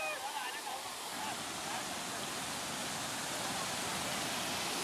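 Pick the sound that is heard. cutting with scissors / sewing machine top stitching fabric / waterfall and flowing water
waterfall and flowing water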